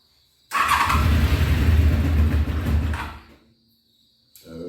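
A 1993 Honda VFR750F that has sat for over a year cranks on full choke, the starter grinding loudly for about two and a half seconds before fading, then a brief second crank begins.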